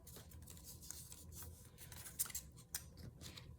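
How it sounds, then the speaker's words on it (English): Scissors snip through scrapbook paper during junk-journal crafting, a run of close, crisp cutting and rustling strokes with a couple of sharper snips near the end, no voices. "I hate to cut these up because they're exactly the right size to make a few more of these."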